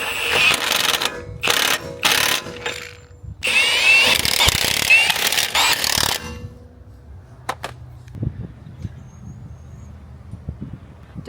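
A power drill or impact driver torques parts into place during an install, loud bursts of whirring and clatter stopping and starting over the first six seconds, then quieter scattered knocks and handling noise with wind on the mic.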